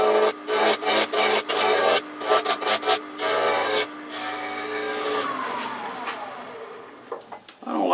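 A woodturning tool cuts acorn wood spinning on a lathe, making close, rhythmic rasping bursts in quick repeated passes, then a steadier scrape as the lathe hums and winds down.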